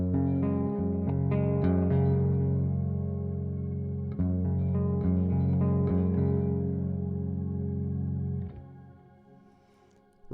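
An electric guitar with effects and reverb rings out an arpeggio built on an A root, fifth and ninth, giving a sus2 sound. Sustained, layered notes overlap up close before fading out near the end.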